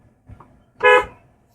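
A single short car horn honk, loud and close, preceded by faint low rumbling.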